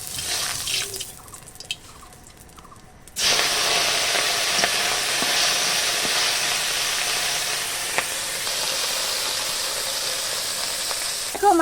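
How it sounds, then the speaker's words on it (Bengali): Turmeric-coated fish fries in hot oil, shifting from a quiet stretch with a few soft clicks to a steady, loud, hissing sizzle that holds to the end, with occasional sharper pops. "দেখো মাছ ভাজাটা উল্টে দিচ্ছি, একবারে উল্টে দিলাম।"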